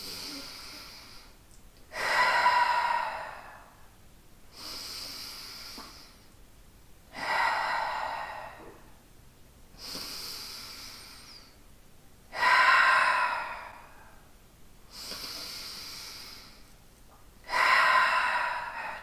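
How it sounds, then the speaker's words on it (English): Slow, deliberate breaths during a core workout, drawn in through the nose and pushed out through the mouth, recurring about every five seconds with audible exhales, close and moderately loud. "I'm gonna breathe in through my nose and then out through my mouth."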